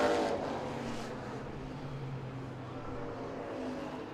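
Race trucks roar around the Owosso Speedway oval, a distant, steady blend of engine drone and track noise that swells slightly as the pack passes, with no clear single vehicle standing out.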